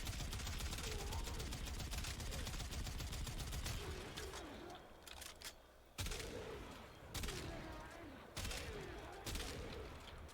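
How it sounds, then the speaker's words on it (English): Repeated bursts of gunfire from the Kuva Quartakk in the shooter game Warframe ring out loud and rapid, with someone talking over the shots. "I think that's a one shot with the burst fire."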